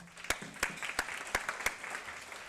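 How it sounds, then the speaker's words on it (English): A small conference audience gives thin, sparse applause, a few evenly spaced distinct claps over soft room noise lasting about two seconds. "I want to welcome Todd, give him a round of applause."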